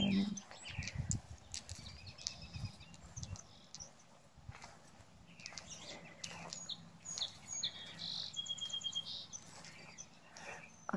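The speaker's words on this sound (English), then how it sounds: "oh, just listen to all those birds." Birds chirp and sing outdoors near a garden flower bed and trees, with scattered calls coming through over a steady outdoor background and some low rumbling.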